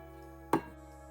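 A single short knife cut into a washed sweet potato, one crisp scoring stroke against a quiet background hum.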